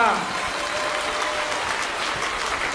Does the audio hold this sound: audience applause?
yes